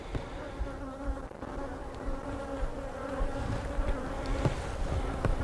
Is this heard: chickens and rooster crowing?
no